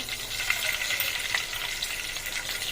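Mustard seeds sizzling in hot oil for a masala brinjal curry, a dense continuous crackling hiss, close and steady, with no voices.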